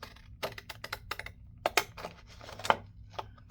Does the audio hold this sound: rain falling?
no